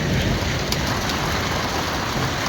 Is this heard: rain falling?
yes